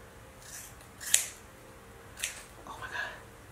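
Scissors snip through damp hair in a few separate crisp cuts, one sharp close snip followed by two softer ones, with no talk over them.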